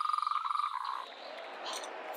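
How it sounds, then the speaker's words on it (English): A frog gives a rapid pulsing croak, a close, even trill that fades after about a second into a soft hiss, alone without speech. "Ribbit, ribbit. Frog. It's a friendly frog."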